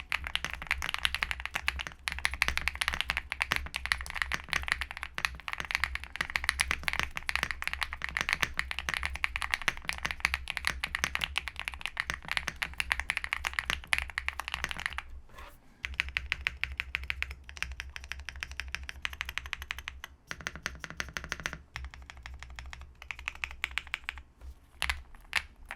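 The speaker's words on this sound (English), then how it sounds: "let's do this sound test and see how this thing really sounds" Steady, rapid typing on a Shortcut Studio Bridge75 budget 75% mechanical keyboard, close and alone, a dense run of clacky keystrokes with brief pauses and a sparser, slower stretch near the end.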